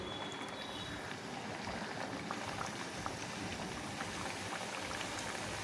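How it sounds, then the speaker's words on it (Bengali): Small gaja sweets fry in a wok of oil, giving an even, busy bubbling sizzle that stays steady throughout, moderately close and without any talk. "বাকি তেলের মধ্যে আবার এগুলো ভেজে নেব, এই ছোটোগুলো ভেজে নেব।"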